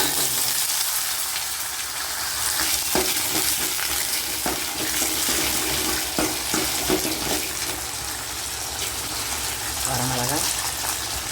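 Chana dal and urad dal fry in hot oil for bittergourd curry, giving a steady close sizzle with scattered crackles and stirring clinks throughout.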